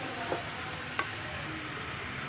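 Vegetables stir-fry in a pan with soy sauce, salt and pepper for Schezwan noodles, a continuous close sizzle broken by two quick utensil scrapes.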